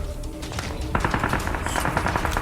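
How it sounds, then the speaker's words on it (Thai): Rapid automatic gunfire in the mobile battle-royale game PUBG Mobile, a steady stream of loud, close bursts that intensifies after the first second and runs continuously to the end. "เมื่อกี้มีคนยิงมาจากตรงนี้"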